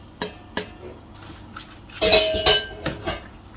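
A utensil stirring fettuccine pasta in a creamy white sauce in a metal pan, with a few sharp clinks, then a burst of scraping and clattering against the pan, close and fairly loud with no voices.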